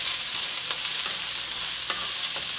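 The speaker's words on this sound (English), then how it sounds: "I love that sound of that sizzle." Oil sizzles steadily with a bright, hissing crackle as onions fry for veggie fried rice, broken by a few soft stirring scrapes; no voices.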